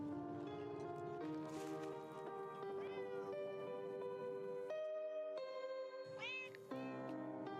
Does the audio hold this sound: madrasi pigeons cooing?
no